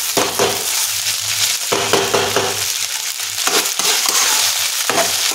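Fried rice with tempering stir-fried in a hot pan over high flame, a continuous loud scraping and sizzling with rhythmic stirring strokes, no voices.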